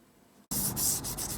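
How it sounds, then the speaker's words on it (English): Very fine sandpaper lightly rubbing a painted picture frame by hand outdoors, a steady close scratchy swish that starts abruptly after brief quiet and continues in even back-and-forth strokes. "Lightly sand this. Some very fine sandpaper."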